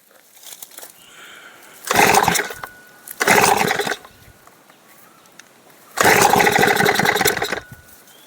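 A STIHL FS 230 brush cutter being pull-started: three loud, rough bursts from separate start attempts, each followed by a quiet gap. The engine never settles into a steady run.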